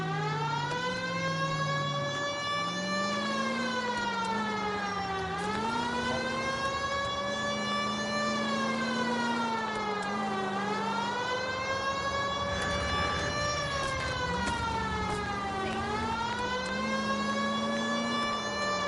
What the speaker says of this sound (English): I like the old-timey, police siren, too.